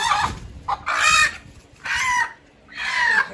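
A hen squawks loudly in three or four drawn-out, harsh cries while being held and handled, close to the microphone with brief gaps between calls.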